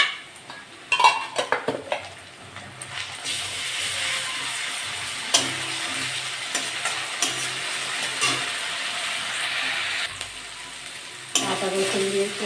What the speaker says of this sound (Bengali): পেঁয়াজটা একটু লাল লাল ভাজা ভাজা হয়ে গেছে, আমি আদা রসুন বাটা দিয়ে দেবো